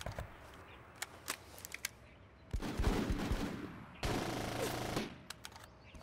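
Bursts of automatic gunfire in the military squad tactics game Full Spectrum Warrior: two sustained volleys between scattered single sharp shots, moderately loud against quiet background.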